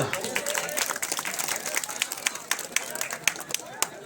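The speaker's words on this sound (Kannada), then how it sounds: "ಜೋರಾಗಿ ನೀವು ಚಪ್ಪಾಳೆಯನ್ನು ತಟ್ಟಿದ್ರೆ" A crowd applauding, dense clapping that continues steadily for a few seconds, with some sharper individual claps standing out near the end.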